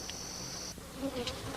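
Honeybees of the genus Apis buzz in a faint, steady drone that lasts a moment and comes with no talk.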